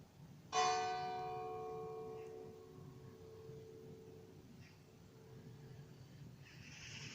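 A hung bell at a beehive apiary in Crosne rings once with a bright metallic strike and a long shimmering decay, followed by a couple of much fainter dings in a quiet cold morning outdoors.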